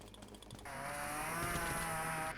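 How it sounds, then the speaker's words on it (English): A chainsaw in the video game Dead Frontier revs into a steady, sustained high-pitched buzzing drone. A brief rattling start-up comes first. "we now have a new chainsaw"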